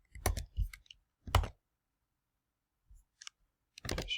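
Typing on a computer keyboard while entering a cell in Google Sheets: a few sparse, quiet key clicks spread across near silence, close to the microphone.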